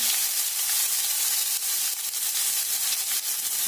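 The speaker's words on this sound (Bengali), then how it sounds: "আগে আলুগুলোকে ভালো করে ভেজে নিচ্ছি" Potatoes frying with ginger and turmeric in a pan, a loud, dense, continuous sizzle with faint stirring scrapes and no talk.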